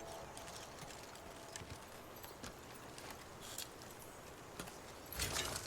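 Horse hooves clip-clopping in Horizon Forbidden West, faint scattered hoof strikes at an uneven walking pace over a quiet game background, with a louder burst near the end.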